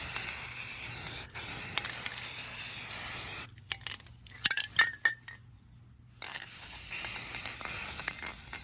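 A spray paint can hisses in long, steady bursts on a 350Z bash bar, with a pause full of short rattles and clinks from the can's mixing ball before the spraying resumes close by.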